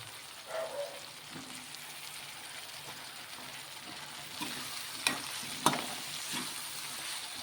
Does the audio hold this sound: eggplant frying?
yes